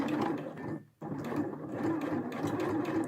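A sewing machine stitches a seam in fraying linen, its fast, even whirring running close by with a brief pause partway through.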